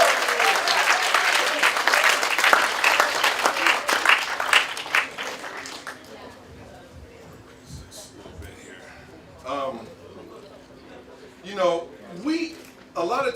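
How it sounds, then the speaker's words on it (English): Audience applause at a 2012 event in Manila, dense clapping for about six seconds that fades out, followed by a speaker talking over the quieter room. "I just want everyone to give themselves a round of applause for being here."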